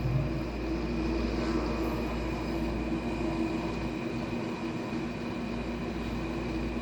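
A police helicopter circling over a house produces a steady, broad droning rumble that stays constant and fairly loud throughout, with no voices.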